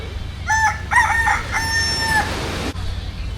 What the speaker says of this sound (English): the Filipino roosters, they don't have a timetable. They go off all day long